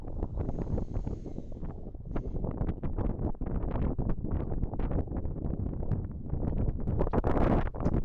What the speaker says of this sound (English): the wind keeps changing, so it's sort of hard to gauge